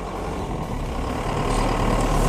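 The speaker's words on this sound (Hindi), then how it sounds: "अबे रगड़ रहा है टायर, है ना।" A car driven on a flat, airless tyre gives off a heavy low rumble and grinding drone that grows slightly louder, with no talking.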